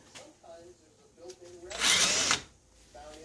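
An electric drill bores a half-inch hole into an 8-ball shift knob, a single loud whirring burst of about half a second, with quieter handling noises before and after.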